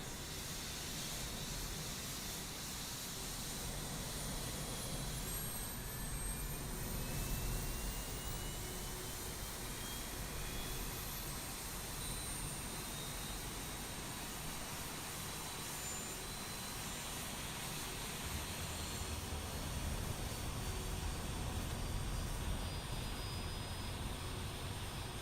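Embraer E175 jet engines spooling up in a flight simulator, a steady broadband roar and hiss with faint rising whine tones, continuous and even throughout.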